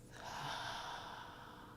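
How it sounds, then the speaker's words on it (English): Slow, soft exhalation through the mouth during a calm breathing exercise, one steady breathy outflow, close and quiet. "Breathing out through the mouth."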